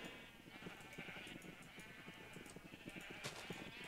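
Minecraft sheep on a large sheep farm bleat in a rapid, overlapping chorus of many short calls, a continuous cluster of flock noise throughout.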